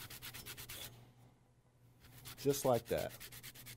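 A lemon is rubbed against a grater for cake zest, giving quick rhythmic scraping strokes, a pause, then a few more rasps while a person speaks briefly over them.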